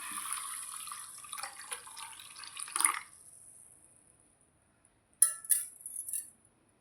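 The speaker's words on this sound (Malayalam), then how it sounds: "ഇപ്പോൾ നമുക്ക് കുറച്ച് വെള്ളം ഒഴിച്ച് വയ്ക്കാം" Water trickles and splashes briefly, then stops; after a short silence, a few sharp clinks and splashes follow, close by.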